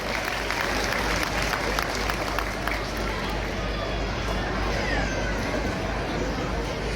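A large crowd at an outdoor Lohri celebration for daughters at a farm claps loudly and steadily, the dense applause filling the whole stretch before gradually thinning toward the end.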